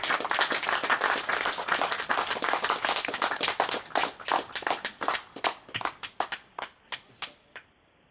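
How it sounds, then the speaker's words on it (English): An audience at an outdoor poetry reading in St. Mary of Calice at Cornoviglio breaks into applause, dense clapping that thins out into a few scattered, fading claps before stopping. "A stratospheric applause."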